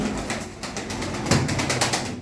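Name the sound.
pigeons cooing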